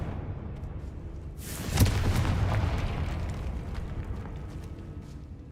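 A Confringo blasting spell explodes in the game Hogwarts Legacy, a sudden loud burst that swells into a long rumbling roar and slowly decays over several seconds, with no voices.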